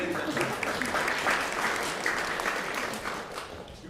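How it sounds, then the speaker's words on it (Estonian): Applause from the audience at a family concert, a full, steady wash of many hands clapping that holds at an even level and eases slightly toward the end. "Võite aplodeerida."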